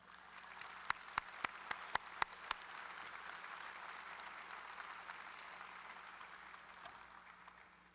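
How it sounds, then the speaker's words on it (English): Steady applause from a commencement audience at a university architecture and design graduation ceremony, with a few sharp, close individual claps early on before the clapping settles into an even, moderate wash. "Please join me in recognizing our stage party with a round of applause"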